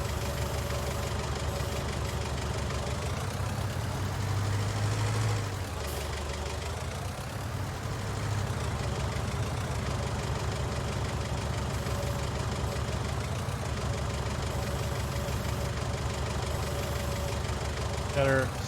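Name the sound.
forklift engine idling in Farming Simulator 19 video game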